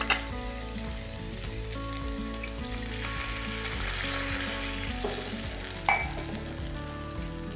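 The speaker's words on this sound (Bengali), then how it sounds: "এখন ভালো করে ভেজে নিব। ভাজা হয়ে গিয়েছে, দারুণ একটা ফ্লেভার চলে আসছে।" Pumpkin frying in a pan for a sweet sandesh, a steady low sizzle with faint stirring scrapes and a couple of small utensil knocks, heard close and alone.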